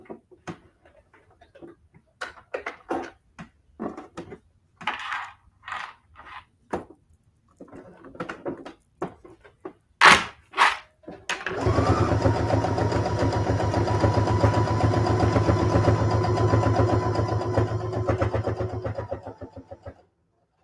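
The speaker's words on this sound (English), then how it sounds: "I'm just going to sew it all the way around." After several sharp clicks and knocks of handling, a sewing machine starts a long basting stitch around fabric and runs at a steady, close, continuous hum for about eight seconds before stopping.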